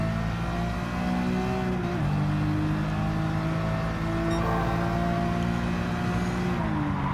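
A race car in Gran Turismo 7 accelerates with a loud, steady engine drone that climbs in pitch, dropping briefly at gear shifts around two seconds and again near the end.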